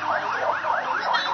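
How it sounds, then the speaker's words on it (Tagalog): An ambulance siren wails in a rapid rising and falling yelp, close and loud, repeating several times at a fire scene in Teresa, Rizal. "May ambulansya na."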